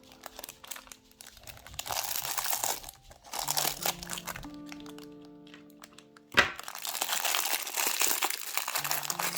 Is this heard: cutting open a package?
yes